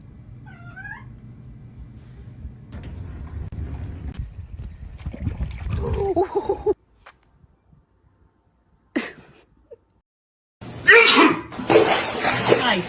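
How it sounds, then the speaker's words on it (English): A person sneezes sharply near the mic amid a pet cat scene, a short burst standing out after quieter rustling, with a cat meowing faintly at the start and noisy movement afterward. "I sneezed!"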